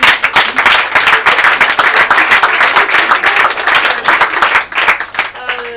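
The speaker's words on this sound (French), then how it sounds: "je vous demande quand même d'applaudir ceux qui les ont montés" A theatre audience applauds the stage crew who built the set, many hands clapping densely and loudly for several seconds before thinning near the end, with voices mixed in.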